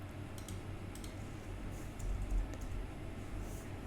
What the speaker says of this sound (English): I type happy birthday